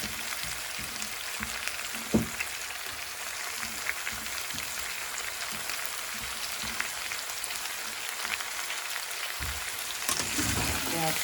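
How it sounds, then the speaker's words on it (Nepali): Onions frying in a pan for chicken curry, a soft continuous sizzle and crackle with occasional stirring taps, close but fairly quiet. "अब चाहिँ म प्याज हाल्छु है।"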